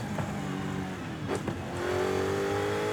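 A car engine in the racing game Forza Horizon 5 during a touge run, revving steadily and rising in pitch as it accelerates, loud and continuous with no talk.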